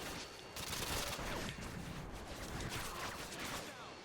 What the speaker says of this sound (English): People are shooting through walls.